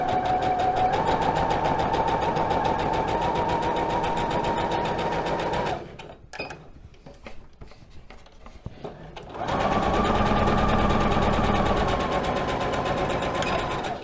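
A sewing machine stitches fabric for a doll's jumpsuit with a loud, steady, close whir. It stops for about four seconds midway, leaving quiet handling noises, then runs again.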